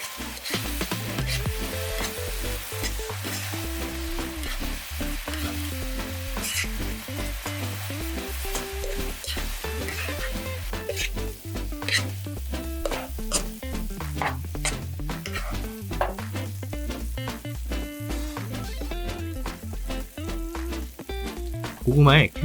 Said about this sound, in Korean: 캐러멜 색이 날 때까지 끓여주면서 고구마에 코팅을 시켜줍니다.